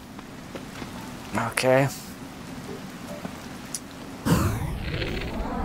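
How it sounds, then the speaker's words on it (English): Rain patters steadily in The Legend of Zelda: Tears of the Kingdom, a soft continuous hiss. A short spoken word and a brief voiced sound cut in, and the rain swells louder near the end. "I'm hard at work investigating despite this rain."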